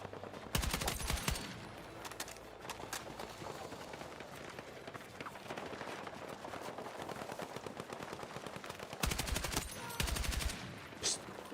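Rapid automatic gunfire in Battlefield 6 multiplayer while shooting bots, loud bursts of machine-gun fire broken by short pauses and scattered single shots, with footsteps of running between bursts.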